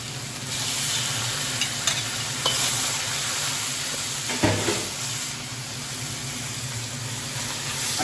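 Kimchi and beef fry in a pan with a continuous, lively sizzle and hiss, broken by occasional light stirring scrapes.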